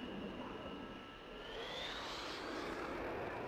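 Eurofighter Typhoon jet flyby in the FSX flight simulator, a steady loud engine roar with a rising whine that swells and shifts pitch as the aircraft passes close.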